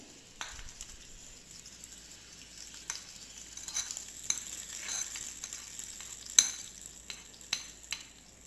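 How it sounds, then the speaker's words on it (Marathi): Hot tempering with chilli, curry leaves and turmeric is poured over a cucumber koshimbir salad. It gives a faint, steady crackle with scattered sharp clinks and stirring taps. No voices. "आता आपल्याला ही फोडणी कोशिंबिरीवर घालून घ्यायची।"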